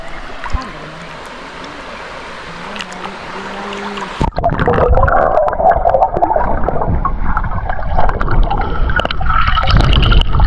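Clear water of the Talisayen Cove hidden river in Pundaquit, San Antonio, Zambales, rushing loudly and steadily up close after a quieter opening with a speaking voice.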